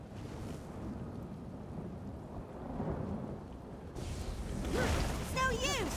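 A thunderstorm rages in Elder Scrolls Online, steady rain and rumbling thunder building toward a louder crack near the end, with faint voice-like sounds mixed in.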